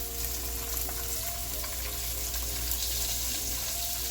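Fish fries in hot oil, a steady dense sizzle running throughout at close range, with no talk over it.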